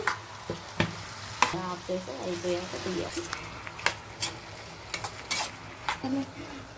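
Potatoes with salt stirred in a pan for a potato fry: a close, soft sizzle under repeated sharp scrapes and clinks of a spoon against the pan, while a person talks intermittently.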